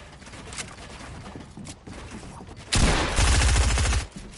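Gunfire in a PS4 video game: scattered quieter shots at first, then a loud, close burst of rapid automatic fire lasting over a second near the end.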